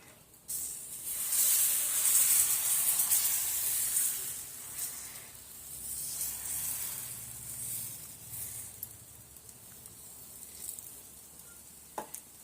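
Wheat flour dosa batter sizzles on a hot pan, a steady bright hiss that swells loudly at first, then settles into a softer crackling fry with a few sharp clicks near the end; no voices.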